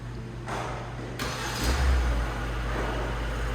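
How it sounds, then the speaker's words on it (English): A 2021/2022 Kia Carnival engine starts remotely from a key fob beside the vehicle. A sudden broadband burst is followed by a swelling low rumble that settles into a steady, close idle hum, with no talk. "you could start the engine just by pressing the lock button and hold this button right over here"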